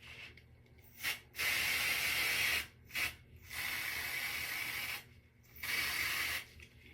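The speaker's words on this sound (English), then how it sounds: "spray approximately 8 to 10 inches away from the lace" Lace spray hisses onto a wig in three sustained bursts of roughly one to one and a half seconds each, close and steady, separated by short pauses.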